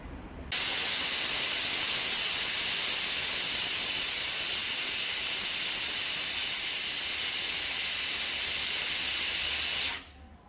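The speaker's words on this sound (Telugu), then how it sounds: "లాంగ్ విజిల్స్ వచ్చాయి కదండి 2" A pressure cooker cooking mutton biryani lets out a long, loud, continuous steam whistle, a sustained hiss that starts abruptly, holds steady for about nine seconds, then cuts off sharply.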